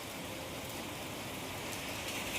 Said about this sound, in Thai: ตอนนี้ก็มีฝนโปรยปรายลงมาไม่ขาดสายเลยนะคะ